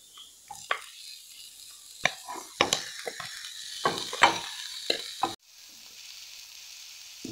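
Bones added to sizzling masala for an Idukki-style kappa biriyani, bursts of crackling sizzle and clattering as the pieces hit the pan, stirring scrapes in between, then the sound drops to a softer steady hiss near the end.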